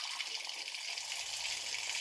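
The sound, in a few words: water pouring out strongly in basement boiler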